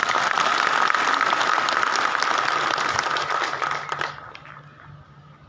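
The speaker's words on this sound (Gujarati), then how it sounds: "પાડો જોરદાર તાળીઓ એના માટે" An audience at a political office-bearers' meeting in Gandhinagar breaks into loud, dense applause that holds strong for about four seconds, then thins to scattered claps and fades.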